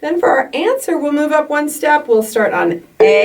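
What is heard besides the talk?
No everyday noises stand out.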